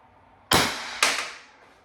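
A BP .50 air rifle with a barrel mod fires two sharp, loud cracks about half a second apart, each .50 caliber projectile shot ringing and trailing off briefly, with no talking.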